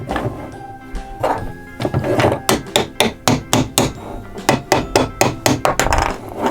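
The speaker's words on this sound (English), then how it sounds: "let's hammer these in here first" A toy wooden hammer strikes pieces into a pop-up tool box playset, loud close knocks in a rapid rhythm, some twenty sharp whacks in quick bursts.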